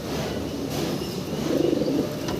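Pigeons, including homers, coo softly in a cage at a farm, a dense steady murmur of calls with faint chirps and no voices.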